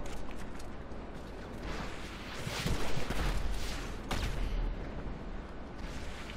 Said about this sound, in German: zur Not nimmst Kanone und schießt einfach Dauerfeuer